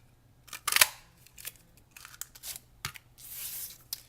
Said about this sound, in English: we're going to go ahead and punch a piece of the basic black with our decorative label